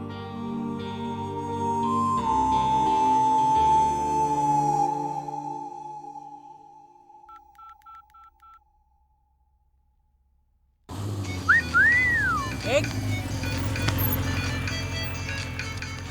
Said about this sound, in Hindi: किसी का फोन है यार।